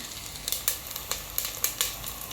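Vadagam, a sun-dried crisp, fries in hot oil in a pan, making a soft, steady hiss dotted with quick pops and crackles, close but fairly faint.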